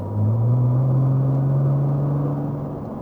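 A Nissan GT-R on a track gives a close, steady engine drone that builds in after a brief start, holds strong and eases slightly toward the end.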